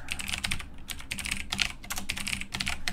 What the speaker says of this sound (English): I'll just type the code here